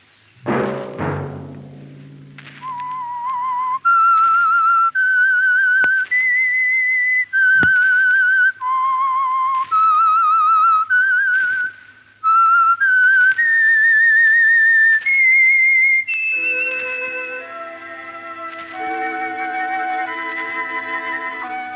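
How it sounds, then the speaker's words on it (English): A lone whistler carries the theme signal of the radio mystery program The Whistler, a clear melody of sustained, slightly wavering notes that ends in a short orchestral swell. There is no talking. "Let that whistle be your signal for the Signal Oil program, The Whistler, each Sunday night at this same time."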